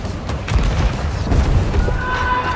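A ship's cannon firing in Sea of Thieves, deep booming blasts rolling out over dense background noise, two heavy thuds close together followed by a fading rumble.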